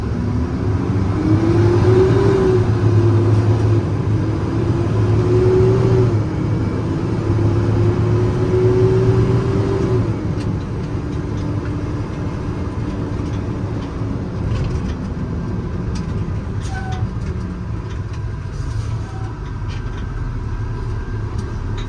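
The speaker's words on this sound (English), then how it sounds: "I'm going to back it up into its spot and then we'll look at the engine." A 2018 International 4400 service truck with a Cummins engine and air-ride rear maneuvering slowly, its engine rumbling low and steady, slightly louder at first and then settling into a constant idle-like drone.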